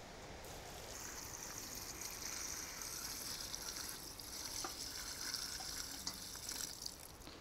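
Water runs into a bucket packed with nettles, a soft continuous splashing trickle of filling liquid, close by but quiet, holding steady for several seconds with no talk over it.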